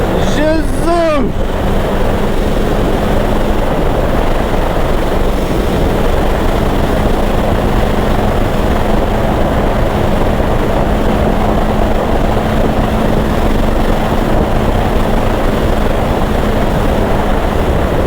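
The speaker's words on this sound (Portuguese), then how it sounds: "Neste momento é só a moto" Sustained engine roar of a 2024 BMW S1000RR sport motorcycle at speed, its steady drone mixed with heavy wind rush throughout, loud and close with a brief tonal chirp at the start.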